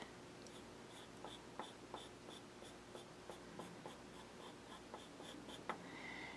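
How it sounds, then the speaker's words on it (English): A pencil sketches an ellipse on paper, giving a quiet, steady scratching with evenly spaced stroke sounds, close up and soft, with no voices. "draw my other ellipse"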